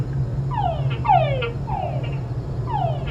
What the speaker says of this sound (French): Et des grenouilles aussi qui font des bruits bizarres.